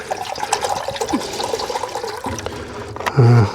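Water splashes and trickles steadily as it is poured outdoors under a tarp for making coffee, close and fairly loud, ending in a brief deeper gurgle.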